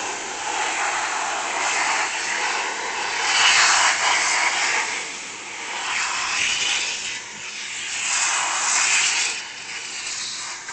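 A can of compressed air blasts into a PS3 Slim console in loud, hissing bursts that swell and fade for several seconds each, close to the microphone.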